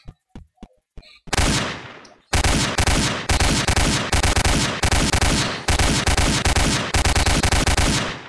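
Roblox Apocalypse Games gunfire: a few sharp single shots, then loud sustained automatic bursts repeating in long rapid volleys with short gaps between them.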